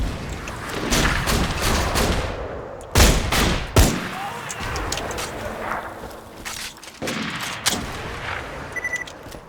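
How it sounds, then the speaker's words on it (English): Rapid incendiary bladed SMG fire in the video game Borderlands 2, dense bursts of sharp shots with a few heavier thuds, loud and close, mixed with game effects. "Slag combined with that incendiary bladed SMG."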